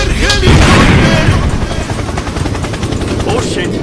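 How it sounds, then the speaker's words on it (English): Helicopter in the Dude Theft Wars video game, a loud rapid rotor chop throbbing throughout, mixed with booms and gunfire-like bursts near the start, with a voice shouting over it. "Helicopter! Helicopter!"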